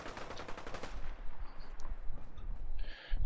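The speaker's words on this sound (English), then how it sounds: "More gunfire." Gunfire from the post-apocalyptic video game Fallout 4, with dense rapid shots in the first second giving way to scattered bursts and softer, more distant-sounding reports.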